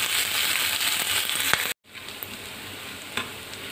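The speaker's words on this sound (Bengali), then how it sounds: "পেঁয়াজগুলো দিয়ে একটু নেড়ে ফেড়ে ভেজে এর মধ্যে আমি দিয়ে দিব আদা কুচি, আর দেবো রসুন কুচি।" Onions with chopped ginger and garlic frying in a pan, a loud dense sizzle running continuously, briefly cutting out, then resuming more quietly with occasional stirring clicks.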